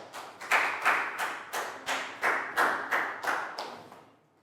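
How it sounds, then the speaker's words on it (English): A small group in a primary school classroom claps in about ten quick, evenly spaced bursts, each a sharp thudding clap close by, fading out at the end. "Big round of applause"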